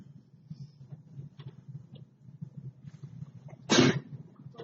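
A single sharp sneeze bursts out in a quiet classroom during a math lesson, loud and brief against a low background hum.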